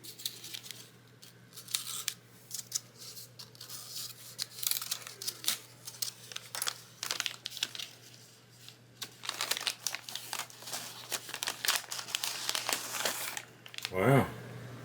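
Protective paper is peeled and crumpled off a new budget Les Paul-style electric guitar, with close, irregular crinkling, tearing and rustling in bursts, indoors with no talking.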